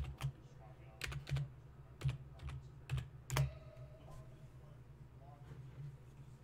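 Sparse clicks and taps on a computer keyboard during a live stream, a few isolated keystrokes in short bursts near the microphone, then fading to quiet room hum.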